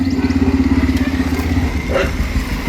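A motorcycle engine runs close by with a steady, pulsing low rumble and a faint clatter, holding an even throb throughout with no speech over it.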